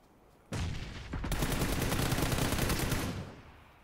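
Gunfire from behind the player in a shooter video game: a sudden loud crack, then a rapid, sustained burst of automatic fire for about two seconds that trails off, with no talking.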